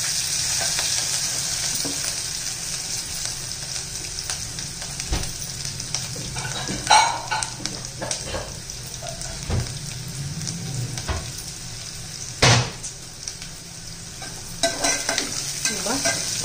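Cloves, black pepper, cinnamon and bay leaf fry in hot oil for masale bhat, making a steady hissing sizzle throughout, punctuated by occasional spoon scrapes and knocks against the pot; nobody speaks.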